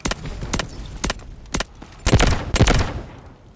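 Gunfire in the shooter game Delta Force comes as loud, sharp shots, single cracks and short bursts spaced across a few seconds, with the heaviest cluster toward the end.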